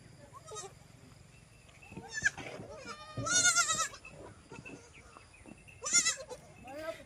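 Young kids and goats on a goat farm bleat in several loud, separate calls spread across the stretch, near and clear, with a voice heard faintly between them.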